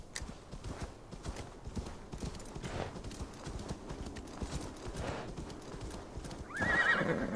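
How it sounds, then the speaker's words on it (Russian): Hooves clip-clop steadily on the ground for a horse in the Assassin's Creed Valhalla video game, and a loud whinny breaks out near the end over a continuous game ambience. "Я возьму вот эту лошадку."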